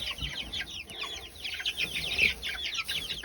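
Chickens in a coop cluck and chatter in quick, overlapping bursts, several birds close by making a busy, steady run of soft calls.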